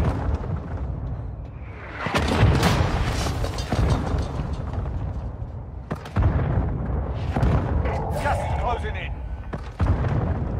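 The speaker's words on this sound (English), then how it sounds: "Hostile mortar strike incoming." Mortar strike explosions in Call of Duty: Warzone Mobile, several heavy booms and bursts landing in quick succession, loud and close, mixed with in-game gunfire and voices talking over the action.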